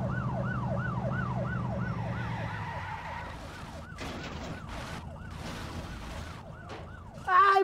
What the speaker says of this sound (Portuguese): Tô ouvindo barulho de viatura,